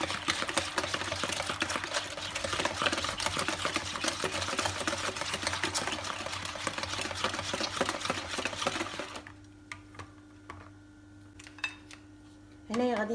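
Turkish cake batter with milk is stirred vigorously in a bowl, a rapid, continuous clatter of utensil against the sides that stops near the end, followed by a few faint knocks.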